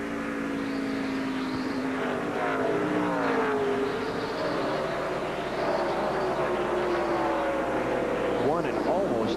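Onboard audio from Matt Kenseth's NASCAR stock car in the 2003 Rock N Roll 400, a loud sustained engine roar rising and falling in pitch through shifts, with a commentator talking over it.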